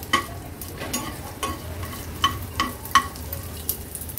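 Dried Bombay duck fish being sautéed in oil over a medium-high gas flame, a quiet, low sizzle broken by occasional sharp scraping stirs and clinks of a utensil.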